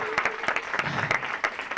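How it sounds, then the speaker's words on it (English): Audience applause at a live stand-up comedy show, a dense steady clatter of many hands clapping throughout, close and continuous with no voices over it. "So can we get a round of applause for that?"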